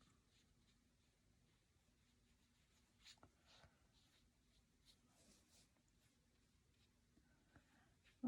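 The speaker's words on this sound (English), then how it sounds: "We're gonna color the house with colored pencils." Soft, intermittent scratching strokes of a colored pencil on paper, quiet and close, with a faint steady hum underneath and a brief louder knock at the end.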